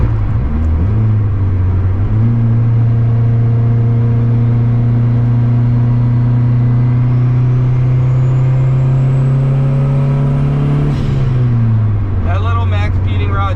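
A turbocharged Honda Civic with a GT3076R turbo holds a loud, steady engine drone that climbs slightly, then drops near the end with a faint turbo whistle rising above it.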